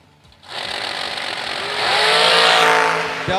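Drag racing cars launch off the starting line as a loud engine roar rises sharply after a brief quiet start, swelling and holding strong as the pair passes close by.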